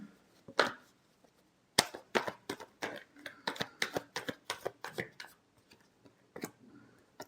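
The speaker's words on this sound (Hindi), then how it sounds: "last shuffle" Tarot cards being shuffled, a series of sharp close slaps and riffling clicks in uneven bursts with short pauses between them.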